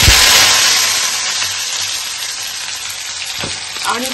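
Cut potatoes fry in hot, smoking oil, a loud close hiss and bubbling sizzle that eases slightly after the first splash, with a few clinks of stirring near the end.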